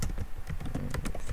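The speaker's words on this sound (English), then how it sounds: "I'm gonna hold on, I gotta type something." Rapid, uneven keystrokes clatter on a computer keyboard close to the mic, a dense burst of clicks with no voices.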